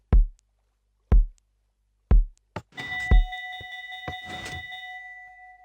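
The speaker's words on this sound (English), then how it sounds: "And the bell goes off." A redstone casino game in Minecraft rings its bell, a bright sustained ding that follows a run of four spaced thumps and fades out slowly with no speech over it.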